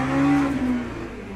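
Race car engine in the Le Mans Ultimate sim racing game, a loud near tone that drones steadily then drops in pitch as it eases off, over about a second.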